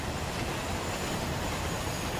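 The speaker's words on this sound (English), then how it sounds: "Here we go with our freight train." An LMS 8F steam freight train with period wagons rolls along in Train Sim World on the Liverpool to Crewe line, a dense steady rumble and rattle of wheels that stays loud and unbroken, with no talk.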